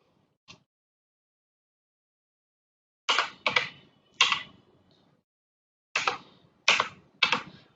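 Subject names typed into an Excel sheet on a computer keyboard: one lone keystroke, a pause, then two separate clusters of crisp, close, loud key presses in an otherwise silent room.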